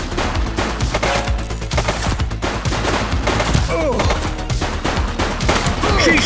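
Sustained gunfire in the police game The Precinct, heavy rapid shots and bursts crackling continuously with thuds and ricochet-like whines, a loud unbroken firefight with faint voices mixed underneath.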